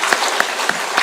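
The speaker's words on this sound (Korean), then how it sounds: "우리 다시 한번 하나님께 영광의 박수 올려드리겠습니다" Church congregation clapping in praise during a Sunday service, a few distinct, evenly spaced claps standing out over a soft wash of background clapping.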